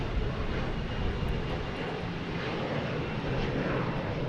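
A Delta airliner takes off at Boston Logan Airport, a steady, broad roar of jet engines heard from a distance, holding even in loudness throughout.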